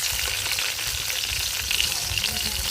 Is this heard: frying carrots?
yes